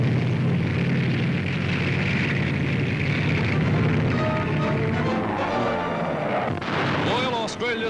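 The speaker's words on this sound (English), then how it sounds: "Royal Australian dive bombers sweep in amid exploding shells as General MacArthur" Artillery shells explode during a 1943 US Army training exercise, with heavy rumbling booms blending into a dense, continuous roar that stays loud throughout and thins slightly near the end.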